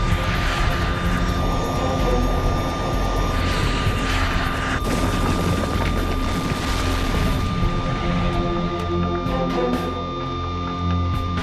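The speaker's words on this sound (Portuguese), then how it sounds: "Um Fokker 100 da TAM cai sobre várias casas em uma trágica decolagem do aeroporto de Congonhas" A TAM Fokker 100 airliner's jet engines spooling at takeoff from Congonhas airport, a continuous loud roar with rising whine tones, steady throughout and easing slightly near the end, no talk.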